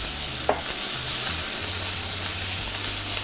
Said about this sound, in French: je vais laisser mes crevettes au feu cuire 3 minutes de chaque côté